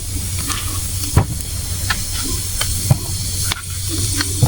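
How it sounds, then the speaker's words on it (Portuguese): A roaring campfire at a jungle survival camp gives a steady loud hiss, broken by sharp crackles and pops every second or so. "Agora o fogo pegou com tudo."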